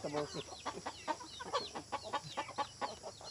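Hens and chicks cluck and peep in a rapid, busy run of short calls, close and moderately loud, with no talk over them.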